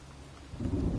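Thunderstorm in the Heavy Rain video game: a low rumble of thunder swells up midway, heavy and building over a steady hiss of rain, with no one speaking.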